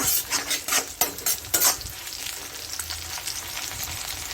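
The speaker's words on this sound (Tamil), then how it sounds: "எவ்வளோ சூப்பராக ஃப்ரையாக இருக்குன்னு பாருங்க" Garlic and eggs sizzle in a hot pan while a spatula scrapes and stirs in quick bursts, the clatter fading into a steady close crackle of frying.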